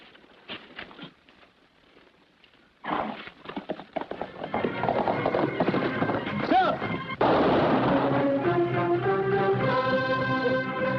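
Horses in an old western episode set off with a scatter of hoof clip-clops, which grow into a busier galloping clatter before music swells over them; people speak briefly near the start.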